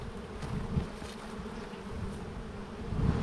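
Honeybees buzz steadily around beehives outdoors during a hive check, a dense, continuous low drone that swells slightly near the end, with no talking.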